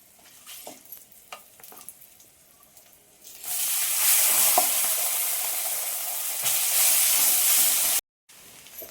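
Tamarind-soaked poha being added and stirred into a hot pan of tamarind poha, with a few light scrapes at first, then a loud steady sizzle and hiss of frying that holds for several seconds and cuts off abruptly.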